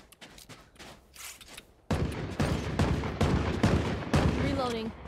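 Gunfire in the tactical shooter video game Valorant, a faint few shots first, then a loud, sustained run of rapid shots with brief gaps, ending with a short rising in-game tone.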